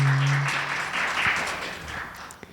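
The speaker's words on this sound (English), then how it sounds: "now you can clap" An audience at a spiritual talk claps together, a broad burst of applause that starts full and gradually thins and fades, ending with a single late clap.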